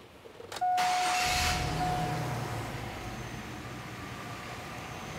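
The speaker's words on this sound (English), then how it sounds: "And we're going to go ahead and start the engine up." A car engine cranks and fires up during an alternator and starter test, with a short loud starter burst settling into a steady idle hum close by.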